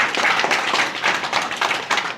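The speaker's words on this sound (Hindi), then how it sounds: "मैं चाहूँगा माताओं और बहनों के लिए भी एक बार जोरदार ताली हो जाए।" A village audience at a health talk gives a loud, sustained round of clapping for the mothers and sisters present, many hands beating in a busy, even patter.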